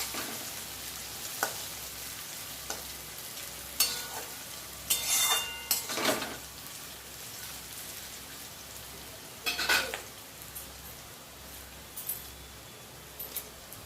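Quiet sizzling of fried rice frying in a pan, with intermittent clinks and scrapes of a utensil stirring.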